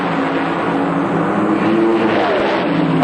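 NHRA drag race cars at the 1997 Pennzoil Nationals launch off the line, a loud continuous engine roar filling the air without pause, close and steady throughout.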